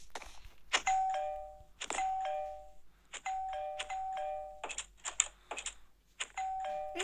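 An electronic doorbell in an old house sounds again and again, each press giving a short two-tone chime followed by a clicking burst, close and clear, with no talking.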